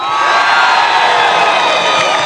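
A large crowd at a Pheu Thai Party political rally cheers and shouts continuously, a dense, loud roar of many voices with whoops rising above it throughout.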